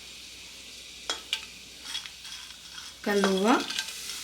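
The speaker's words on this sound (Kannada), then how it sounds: "ಈಗ ಒಂದು ಕುಕ್ಕರಲ್ಲಿ ಎಣ್ಣೆ ಹಾಕ್ಕೊಂಡು ಕಾದಾದಮೇಲೆ ಇದಕ್ಕೆ ಬಾತ್ ಐಟಮ್ನ ಆ್ಯಡ್ ಮಾಡ್ಕೊಳ್ಳೋಣ" Whole spices such as bay leaf, cardamom and cloves hitting hot oil in a pressure cooker, a few faint clinks followed by a sudden sharp sizzle that swells and then settles.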